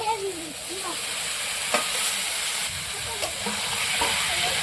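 Cauliflower and potato pieces fry in spiced oil, giving a steady close sizzle and hiss with soft stirring clinks throughout.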